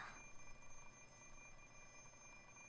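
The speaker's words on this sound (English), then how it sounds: "Ring, ring, ring, ring. The alarm clock doesn't speak my language." Alarm clock ringing in the Fate/Stay Night visual novel, a steady electronic ring with sustained high tones, fairly quiet and continuous with no voices.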